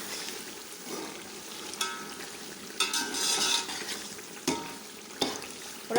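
Beef palao with green chilies and ginger paste is stirred in a pot over a quiet sizzle, with several sharp spoon scrapes at irregular intervals.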